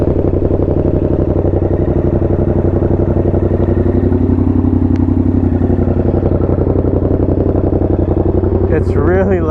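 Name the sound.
Yamaha FZ-07 with SC-Project exhaust, cold start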